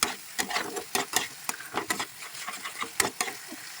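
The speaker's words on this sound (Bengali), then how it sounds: "এই মশলাটাকে খুব ভালোভাবে আমরা কষিয়ে নেবো, তখন তেলটা ছেড়ে যাচ্ছে।" Spice paste of cumin, coriander and turmeric being fried and stirred in oil in a pan, with quiet sizzling broken by repeated soft scraping strokes of a spatula at a brisk, uneven rhythm, close and fairly faint.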